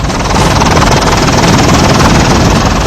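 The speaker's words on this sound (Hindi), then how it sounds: "हेलीकॉप्टर लगातार आसमान से नीचे उतर रहा है।" A rescue helicopter hovers and descends over a river, its rotor roar loud, dense and continuous throughout, close overhead with no other sounds breaking through.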